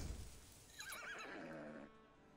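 A horse whinnies in Assassin's Creed Valhalla, a single rising and falling neigh lasting about a second over steady game ambience, fairly close and clear with no talk.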